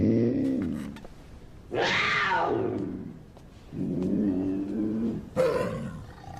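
A puma growls and snarls in a series of loud, close, rasping calls, including a rising roaring cry, with short pauses between bursts and no talk.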